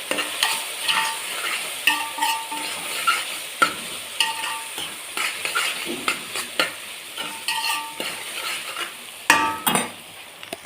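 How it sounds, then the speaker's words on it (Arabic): Vegetables sauté in a pot with a spoonful of paprika. A spoon stirs and scrapes them in repeated sharp knocks over a soft, continuous sizzle, close and without talk. "واتشوحت دقيقتين هنزل عليهم بمعلقه بابريكا تتشوح عشان تديها ريحه حلوه"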